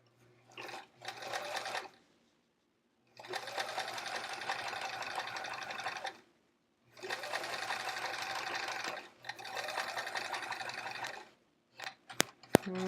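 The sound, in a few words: sewing machine stitching pencil pockets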